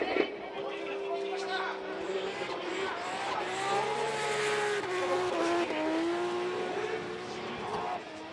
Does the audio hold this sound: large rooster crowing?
no